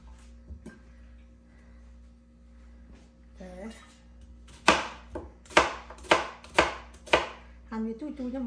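A knife chops food on a board while steamed pork bun filling is prepared: five sharp, evenly spaced chops ring out loud and close after quieter moments, with a voice heard before and after.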